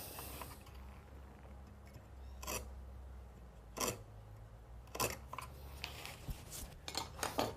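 A knife scores wood to mark a cut for hinges, giving several short, sharp scraping strokes close by, spaced irregularly over a quiet background and growing more frequent toward the end.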